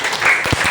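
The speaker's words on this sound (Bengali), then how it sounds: "ওরে ওরে, সুমার জন্য হাততালি।" A short, close burst of clapping from a small group cheers a child who has just recited a story in a classroom storytelling session.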